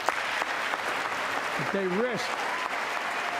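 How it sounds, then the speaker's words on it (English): Lawmakers in the chamber applaud during a State of the Union address. It is a sustained, even roar of clapping from a large crowd, with someone talking over it. "everybody stands and claps for that one"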